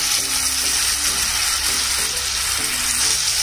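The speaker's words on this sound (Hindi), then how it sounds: "हमारा तेल गरम हो गया है तो हम एक एक करके अपनी पीठी को इसमें डालेंगे" Moong dal peethi dumplings frying in hot oil, making a loud, dense, continuous sizzle and crackle that holds steady throughout with no talking.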